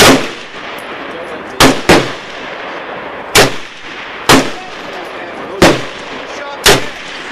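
A Norinco SKS rifle fires six loud, sharp gunshots spaced roughly one to two seconds apart, each with a short echoing tail over a constant outdoor background.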